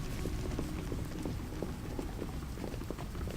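Steady crackling from a fire in the Xenoblade Chronicles 2 game area, a dense run of small pops and snaps over a continuous low rushing bed, constant in level throughout with no talk.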